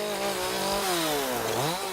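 A chainsaw cuts trees near a high-voltage power line tower on a wooded hillside, its engine loud and close and steadily revving with rising and falling pitch.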